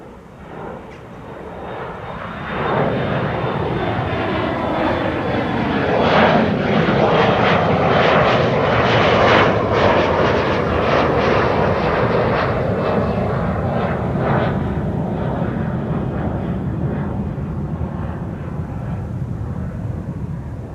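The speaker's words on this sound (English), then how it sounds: "Cathay Pacific, flight 270 to Hong Kong. It's the" A Cathay Pacific Airbus A350-1000 jet airliner departing Amsterdam Schiphol Airport for Hong Kong swells into a loud, sustained jet roar with a high whine, rumbling near and steady before easing slightly toward the end.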